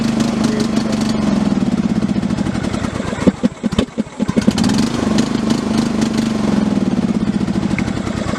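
A cheap Troy-Bilt riding mower engine runs steadily up close, then sputters and nearly dies partway through with uneven chugging before catching and recovering to its steady drone.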